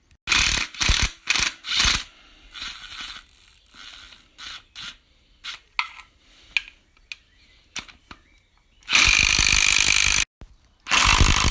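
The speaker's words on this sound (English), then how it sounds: "Going to undo the whole sump bolt now." A hand ratchet undoes an engine sump bolt during an engine swap: loud bursts of rapid metallic pawl clicking, then quieter scattered clicks and knocks, and finally long, harsh ratcheting strokes.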